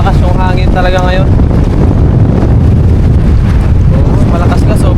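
Strong sea wind buffets a fishing boat out on rough water, roaring loudly and unbroken against the microphone, while someone talks briefly at the start and again near the end.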